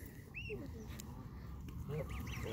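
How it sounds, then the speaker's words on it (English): Baby ducks at a park pond give a few soft, scattered peeps and quacks, faint and somewhat distant, over low outdoor background noise with no clear talking. "Hello, baby ducks."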